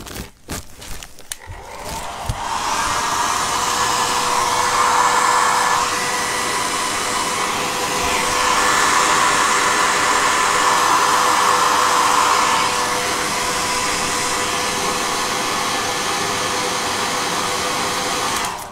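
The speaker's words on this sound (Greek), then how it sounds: "Θα στεγνώσουμε λίγο με το σεσουάρ" A hair dryer blows steadily on a wet Powertex statuette, loud and close, its whoosh starting after a moment of handling noise and holding with slight swells for most of the stretch.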